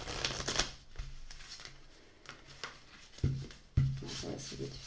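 Cards from a French-edition Samhain witches' seasons oracle deck are shuffled up close, with soft papery rustles followed by a couple of sharper slaps as cards hit together.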